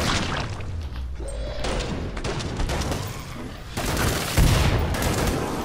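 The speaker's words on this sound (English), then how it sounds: "Oh, burst fire." Dense, loud gunfire in Killing Floor 2, a continuous clatter of rapid shots and impacts filling the scene, with a heavy thump near the end.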